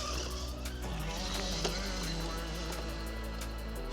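Kyosho Fazer MK2 RC car running flat out at full throttle, a continuous high motor whine with a few tyre-noise swells, fairly close and steady, no talk over it.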